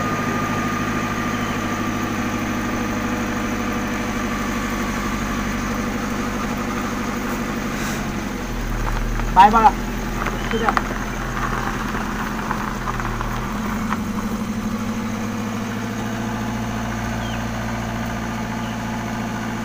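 A car engine idles steadily at a low, even rumble, then shifts in pitch as the car moves off, with a brief clunk and rattle midway and a voice speaking briefly.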